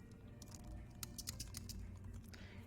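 Typing on a computer keyboard, a quick irregular run of soft key clicks close by and fairly quiet, with no talking.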